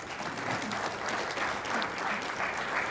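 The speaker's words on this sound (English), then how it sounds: "If we could give them a round of applause" Steady applause from a conference audience thanking a panel after a discussion on Obamacare, Medicaid expansion and welfare reform, a dense even patter of many hands sustained for about three seconds at moderate distance.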